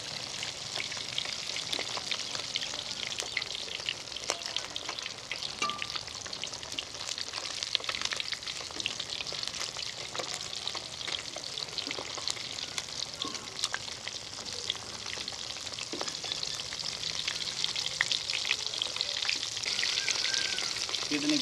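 Fish pieces frying in hot oil for a Pakistani fish karahi give a steady, close crackling sizzle with small spitting pops that runs unbroken for the whole stretch, with no talking.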